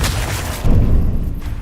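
A Confringo fire spell explodes in Hogwarts Legacy, landing as a loud, booming blast with a deep thud partway through and a rumbling tail.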